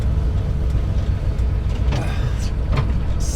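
A restomod Porsche 911 rolls slowly over gravel on the Oberalp Pass, its engine giving a steady, close, continuous rumble with faint crunching on top.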